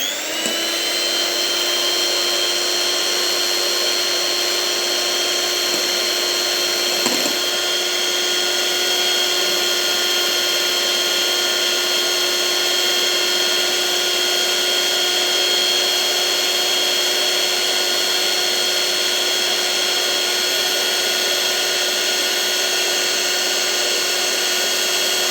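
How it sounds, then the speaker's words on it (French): Electric mixer blending cake batter for a crémo frais cake while oil is slowly poured in, a steady loud whirring drone that holds unchanged throughout with no talking. "Vous mixez en même temps, vous versez l'huile doucement"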